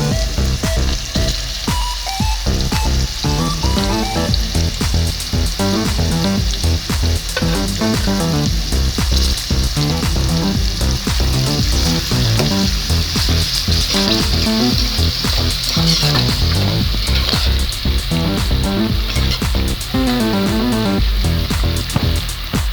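Vegetables frying in a pan for veg pulao, a loud, close, continuous sizzle of hot oil with dense crackling pops and occasional stirring throughout.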